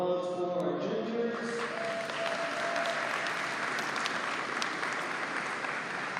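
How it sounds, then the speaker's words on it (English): Audience at a school signing day ceremony applauding the juniors, dense continuous clapping that swells in after a brief moment of trailing sound and holds steady and loud throughout. "So a round of applause for our juniors"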